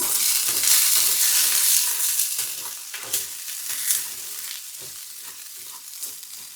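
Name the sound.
stirring Japanese rice in a pot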